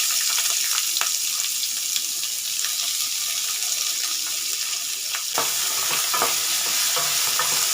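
Fenugreek seeds and onions frying in a pan for a dried-fish curry, a steady loud sizzle with occasional stirring scrapes and clinks, close up and without talk.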